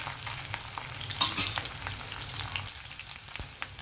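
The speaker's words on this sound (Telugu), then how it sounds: "కొంచెం ఇవి ఆయిల్లో వేగలేద్దామండి దోరగా" Dried ingredients fry in oil in a pan, giving a soft, steady close sizzle with light stirring scrapes and no talk.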